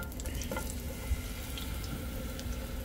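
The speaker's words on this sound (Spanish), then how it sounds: "Le voy a poner un poquito de aceite para sofreír unos pedacitos de cebolla para que el aceite se aromatice." Small onion pieces fry in a little oil in a pot, the first step of a homemade Guerrero-style mole, giving a steady, close sizzle with faint crackles and no talking.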